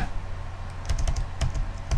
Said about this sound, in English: we can solve the problem by simply typing math.